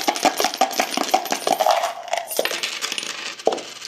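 Four coins, a quarter, dime, nickel and penny, are tossed and clatter onto a hard surface: a rapid series of bright metallic clinks and rattles, loud and close, thinning toward the end with one last ringing drop.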